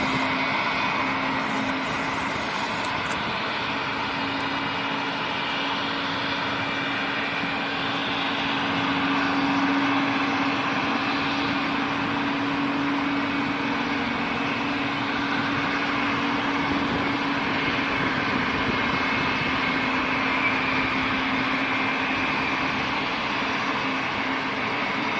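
An aircraft at London City Airport produces a steady, sustained engine drone that swells slightly midway, with a constant tonal hum running beneath the broad roar.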